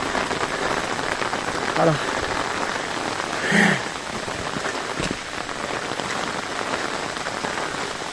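Steady rain pours down over a seaside village in Normandy, a dense continuous hiss of drops on surfaces, with a brief spoken word and a couple of faint knocks partway through.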